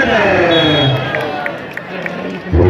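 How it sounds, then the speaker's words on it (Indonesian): At a volleyball match, a crowd cheers and claps near the start, then a hubbub of voices carries on beneath a commentator's talk, and a fresh burst of crowd noise rises at the very end. "Oh, tepuk tangan"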